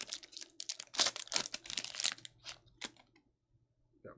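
A Panini football card pack wrapper is torn open, giving close, bright crinkling and ripping in quick irregular bursts that thin out into a few faint rustles, with no talking.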